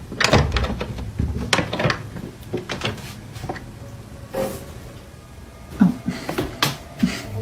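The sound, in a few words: closet door being opened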